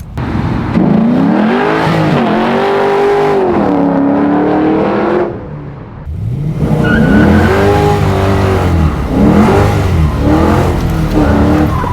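A 600 hp LS7-powered Pontiac Grand Am pro-touring car accelerates hard, its V8 engine loud and close, rising through revs with tire squeal, a brief lift between gears, then climbing again.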